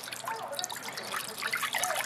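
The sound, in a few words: water poured into the bottom of a crock pot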